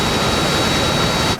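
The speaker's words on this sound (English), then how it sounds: "The Harriers are in." Sea Harrier jets roaring in over a DCS flight simulator scene: a loud, steady broadband jet-engine rush with a thin high whine, holding level and then cutting off abruptly near the end.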